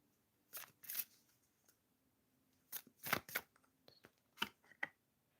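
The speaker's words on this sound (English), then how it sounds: "And I'm going to shuffle the cards for Debia next." Tarot cards being shuffled by hand, heard as quiet, irregular bursts of papery riffling and snapping spread across a few seconds with pauses between them and no talking.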